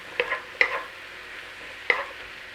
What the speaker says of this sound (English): we're going to cook the mushrooms in there as well